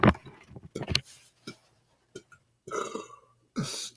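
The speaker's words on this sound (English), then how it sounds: "I was gonna do some belching" A man belches repeatedly while playing the video game Quake, several short, close burps separated by brief quiet gaps.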